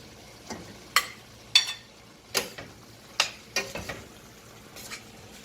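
Sausage frying in a pan with softened cabbage: a low steady sizzle underneath, broken by several sharp scraping stirs of a utensil against the pan at irregular intervals, close up.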